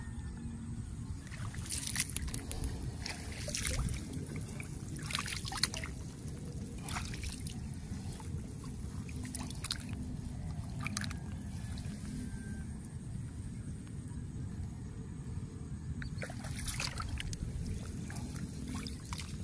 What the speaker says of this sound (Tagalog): Bawasan natin ng konting tubig ito